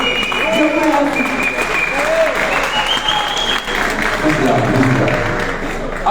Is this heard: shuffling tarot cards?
no